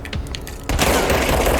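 Sustained gunfire from a video game action sequence, a dense rolling burst of shots that kicks in suddenly partway through and stays loud to the end.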